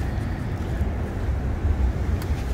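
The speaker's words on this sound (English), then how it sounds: "apologize about the wind. It's super windy today." Strong wind buffets the microphone outdoors in the woods in a steady low roar, loud and continuous with no voices.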